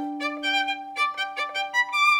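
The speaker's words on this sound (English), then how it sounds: "If you wanted it to sound like Mozart, it would sound something like this" A violin plays a short melodic phrase in a Mozart-like classical style: a held low note under quick, clean, articulated notes, played softly and alone.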